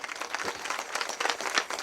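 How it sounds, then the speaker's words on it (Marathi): A kirtan audience claps loudly for two performers, a dense burst of many hands clapping together that runs steadily for under two seconds with no voices on top. "या माझ्या दोन्ही भावंडांसाठी जोरात टाळी"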